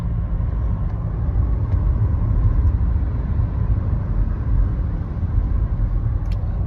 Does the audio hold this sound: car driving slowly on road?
yes